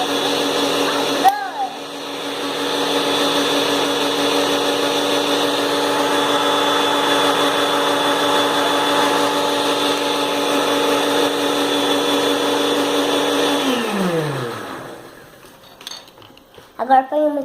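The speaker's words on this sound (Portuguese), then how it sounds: "e mistura no liquidificador" A kitchen blender whirs steadily as it mixes gelatin with cream, a loud sustained motor drone that winds down near the end, followed by a few clinks.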